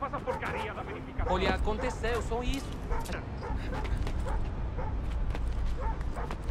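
A dog in the Assassin's Creed III video game barks and yips in quick bursts, mixed with whimpers, under loud overlapping speech and game noise.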